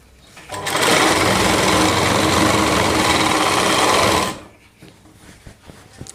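A sewing machine runs in one continuous, fast whirring burst for about four seconds while stitching lehenga panels of a Rajputi suit, then stops, leaving faint handling clicks.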